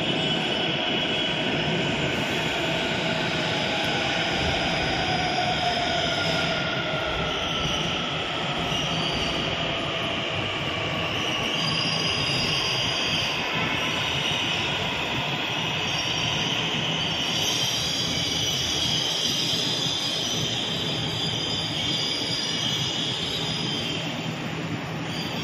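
A metro train pulls in at Belapur station on the Belapur–Kharghar line, its wheels squealing over a steady, loud rumble of rolling stock that fills the whole stretch without pause.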